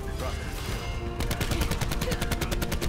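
Rapid automatic rifle fire from an AK-style weapon in a Black Ops 4 Team Deathmatch match, a dense rattling burst that grows louder and more regular in the second half, with faint game noise underneath.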